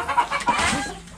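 A backyard chicken clucking close by, a few quick throaty clucks and a drawn-out squawk over about a second, moderately loud with no talking.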